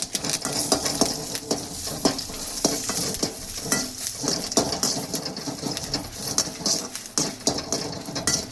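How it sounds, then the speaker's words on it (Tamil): Curry leaves and chillies sizzle in hot oil in a pan, giving a loud, close crackle and spatter with repeated stirring sounds and no talking. "மிளகாய்க்கு எண்ணெய் கூட கருவேப்பிலை போடுறோம்"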